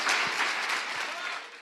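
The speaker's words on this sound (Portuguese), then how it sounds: "Pode aplaudir o Senhor" A church congregation applauds after a prayer in a brief, thick wash of clapping from many hands, steady from start to finish.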